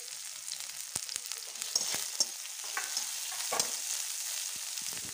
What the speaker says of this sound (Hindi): अब इसमें हम प्याज डाल के इसे गोल्डन ब्राउन होने तक भूनेंगे।